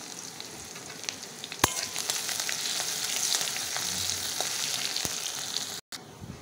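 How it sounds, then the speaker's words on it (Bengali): Garlic, ginger and dried chili sizzling in hot oil in a pan, a dense, steady crackle with occasional sharper pops and a brief stir, close and continuous with no talk. "মশলাটা ভাজা হয়ে গেছে"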